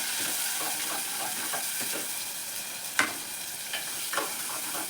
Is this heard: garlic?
yes